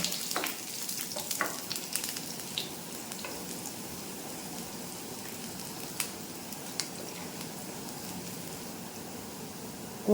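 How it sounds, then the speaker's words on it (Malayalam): Garlic fries in hot oil for an egg masala, a continuous close crackling sizzle with scattered sharp pops and faint stirring clicks, with no voices. "നമ്മൾ വെളുത്തുള്ളി ഇട്ട് മൂപ്പിക്കുന്നുണ്ട് ഇതിലേക്ക് വെളുത്തുള്ളി ഇട്ട് നന്നായിട്ട് വെന്ത് മൂക്കണം കേട്ടോ"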